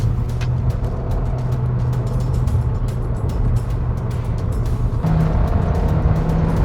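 A Toyota Veloz in power sport mode drives with a loud, droning engine heard from inside the cabin. The note holds steady, then steps up in pitch partway through, with no talking.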